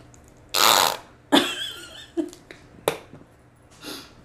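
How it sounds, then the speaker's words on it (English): Ketchup squirts from a bottle in a series of short sputtering bursts, one longer blast followed by several briefer spurts, loud and close, with no talk. "it's called a ketchup fart"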